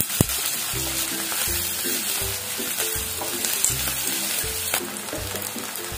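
Onions sizzling and frying steadily in a hot pan for donne biryani, with occasional scraping and stirring clicks over the constant crackle.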